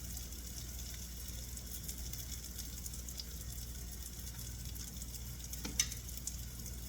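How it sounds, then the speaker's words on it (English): Tater cakes fry in a pan with a continuous, even crackling sizzle at moderate level, a single brief clink or tap standing out near the end. "Once they start to fry good on the bottom and they brown a little bit"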